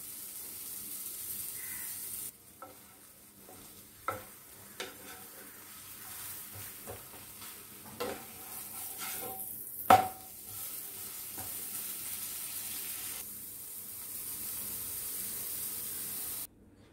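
Bread slices toasting in a pan for cheese bread, a quiet continuous sizzle and hiss with occasional light scrapes and taps, one sharper clatter midway.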